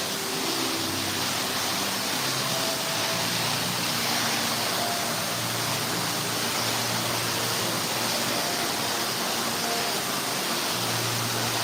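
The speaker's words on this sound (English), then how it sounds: "But I guess it has to be louder than the waterfall." A loud waterfall at a Disney resort roars as a dense, steady wash of rushing water, close and unbroken throughout, with faint voices now and then underneath.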